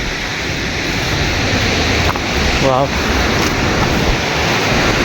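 Tarabu waterfall roars in a steady, broad rush of falling water heard close by, with a brief exclamation from a person partway through.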